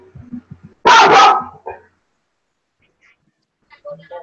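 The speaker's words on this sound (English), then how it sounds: "Dog's back talking." A dog gives a single loud, close bark burst followed by a shorter yap, with faint voices and small sounds before and after in an indoor livestream setting.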